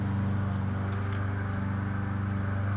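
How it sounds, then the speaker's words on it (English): A lawnmower running outside gives a steady, loud droning engine hum that holds constant for the whole stretch, with no talking over it. "Sorry about the lawnmower, you guys."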